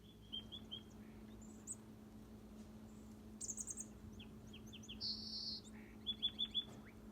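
Small birds chirping outdoors during a snowstorm near Dungeness Spit in Sequim, scattered short tweets and trills coming and going over a faint low hum, fairly quiet and somewhat distant.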